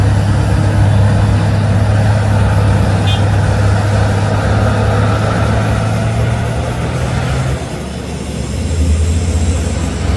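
Loud heavy truck engine laboring close by on a steep mountain road near Guci, with a steady low drone that drops and shifts near the end, suggesting a gear change, with little talk.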